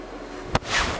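A TaylorMade GAPR High club strikes a golf ball outdoors with a single sharp, close crack, followed by a brief rush of noise as the ball flies off.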